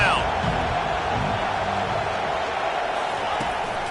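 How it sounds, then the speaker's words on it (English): A football stadium crowd roars steadily through a third-down defensive stand late in the first half of a college game, a broad, sustained wall of cheering with a commentator's voice running over it. "Decibels rising as the crowd gets behind this defense on 3rd down"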